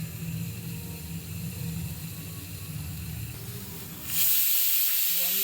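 A pressure cooker cooking tomato bath hisses steadily at close range, then the steam release swells sharply into a loud, bright whistle-like blast near the end.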